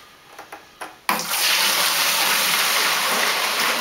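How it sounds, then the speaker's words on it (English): Beer wort for a pale ale poured back into a bucket: a steady, loud, continuous splashing gush begins abruptly after a few soft knocks and runs unbroken to the end. "So I'm going to pour this back in."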